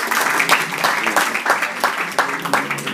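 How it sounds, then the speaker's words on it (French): Audience applause closing a Haggadah lecture before Pesach, a dense patter of many hands clapping steadily and fairly loud, with a few sharper claps standing out and some voices mixed in. "on peut l'applaudir"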